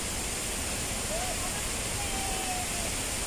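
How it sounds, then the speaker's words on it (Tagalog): Maria Cristina Falls gives a steady, loud, broadband roar with no pauses, filling the whole space, while faint voices can barely be heard under the rush of water. "Maria Cristina Falls."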